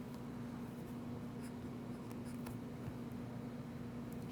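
Pen writing math on paper: a soft continuous scratching and scribbling, close by, under a steady background hiss and low hum.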